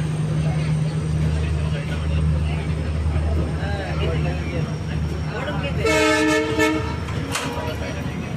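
The Chalukya Express train rumbles along as it departs, then a loud horn sounds twice near the end, with a voice talking over the rolling noise.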